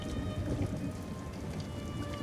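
Steady rain falls outside in bad weather, a continuous broadband hiss with pattering on surfaces throughout, fairly loud and unbroken, with no voices over it.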